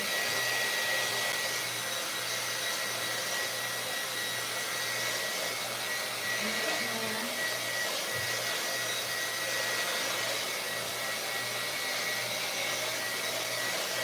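A hair dryer drying wet paint on a canvas in a painting studio gives a steady, close, continuous blowing whoosh that runs unchanged throughout.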